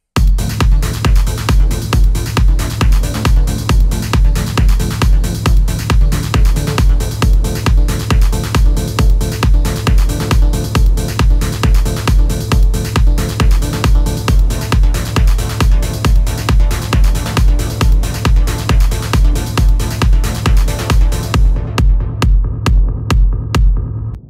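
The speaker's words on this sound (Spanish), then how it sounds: "Y con el contexto ya de una base techno, suena así" Techno synth chords made in FL Studio ride over a steady four-on-the-floor techno kick, pulsing evenly and loudly throughout, with the beat thinning out briefly near the end.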